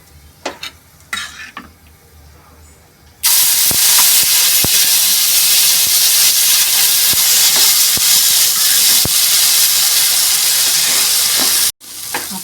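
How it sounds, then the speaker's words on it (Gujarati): Pav bhaji fries on a hot tawa with Kashmiri red chili and chaat masala, bursting into a loud, dense steady sizzle after a few quieter clatters, with scattered spatula ticks before a sudden brief cutoff. "હવે આપણા તવા ઉપર એને ફ્રાય કરીશું."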